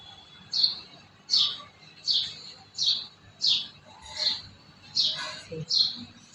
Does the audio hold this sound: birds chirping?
yes